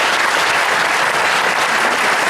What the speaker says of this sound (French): Je crois que ça mérite de très gros applaudissements.